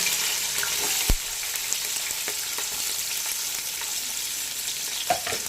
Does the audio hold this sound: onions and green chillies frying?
yes